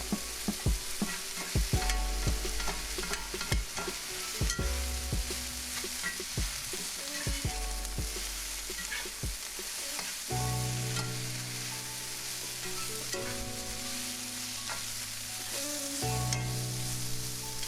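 Eggplant frying in a pan of oil as it browns, a steady close sizzle with stirring clatter and occasional utensil knocks throughout.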